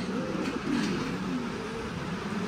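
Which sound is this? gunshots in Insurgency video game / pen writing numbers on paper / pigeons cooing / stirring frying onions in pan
pigeons cooing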